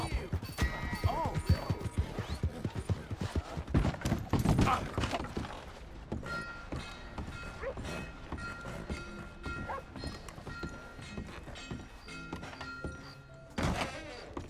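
Horse hooves in Red Dead Redemption 2 thud and clop in an uneven run amid heavy in-game bustle and impacts, with a voice speaking over the busy mix.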